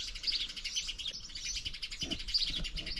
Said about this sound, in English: sitting amongst the rhododendrons and listening to the birds